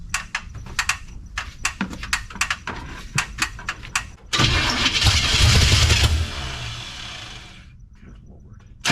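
A 1972 Chevrolet C10 pickup's small-block 350 V8, sitting unused for over twenty years, cranks with a rapid rhythmic chatter of starter bursts, then catches and roars loudly for about two seconds before settling and dying away.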